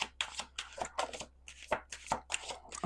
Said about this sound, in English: One more shuffle, guys.